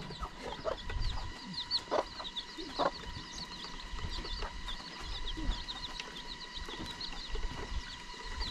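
Chickens cluck and a rooster calls repeatedly inside a rural poultry coop where hens lay eggs in Arunachal Pradesh, with scattered near clucks and birdsong over steady background insects.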